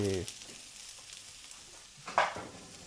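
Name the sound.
onion sizzling on masala dosa frying on pan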